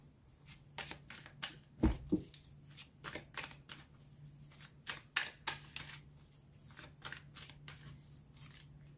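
Tarot cards being shuffled by hand for a reading: a quiet, close series of crisp riffling flicks and papery slaps in irregular bursts, with a faint steady hum underneath.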